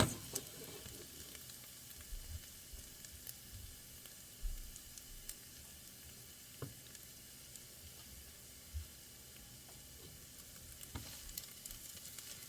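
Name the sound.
garlic and sauce sizzling in a pan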